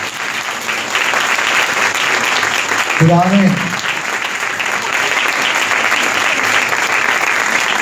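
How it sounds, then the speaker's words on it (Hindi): An audience claps loudly and continuously at a church-style motivational talk, with a brief spoken phrase cutting in partway through the applause. "आइए खुदा उनके जलाल के लिए जोरदार तालियां दीजिए।"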